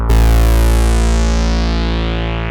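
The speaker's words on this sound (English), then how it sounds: "So I'm adding attack. See that? So you hear that, okay?" A vintage 1969 Moog IIIP modular synthesizer plays a single loud, buzzy sustained note with attack added, rich in harmonics and slowly decaying.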